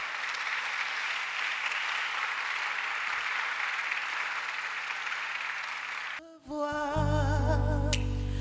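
A church congregation at a solemn convocation applauds in a continuous, dense wash of clapping for about six seconds, then amplified worship music with bass and melody takes over.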